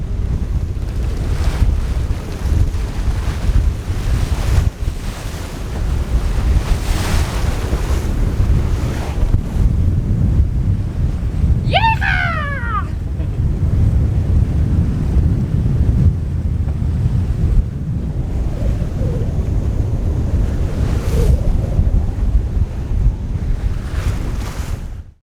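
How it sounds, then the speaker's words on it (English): Sailboat beating upwind off Martinique, with steady loud wind buffeting the microphone and waves washing against the hull throughout, plus a brief whistling creak partway through. "Back into the wind! We're sailing upwind, we never sail upwind."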